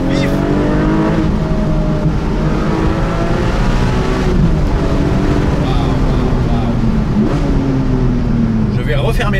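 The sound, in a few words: Porsche 718 Boxster GTS 4.0 flat-six engine accelerating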